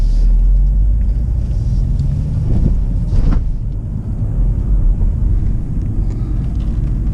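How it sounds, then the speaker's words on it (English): A car driving slowly into a car park to pull into a space between parked cars: a steady low engine and road rumble with some wind noise, close and continuous, with no talking. "as we're driving to the car park, I'm aiming to go into the space in between the Volkswagen and the BMW"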